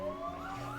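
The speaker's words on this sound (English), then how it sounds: "The police sirens from blocks away is wailing from far to near." Police sirens in the video game Reverse: 1999 wail faintly in the distance, a steady rising tone with no voices over it.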